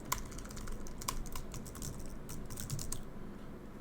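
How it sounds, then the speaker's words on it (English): Someone types a password on a computer keyboard with a fast, steady stream of close, crisp key clicks over a few seconds and a low background hum, with no speech. "I didn't type the password correctly."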